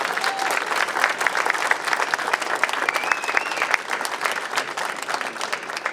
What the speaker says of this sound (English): let's have another round of applause for living history.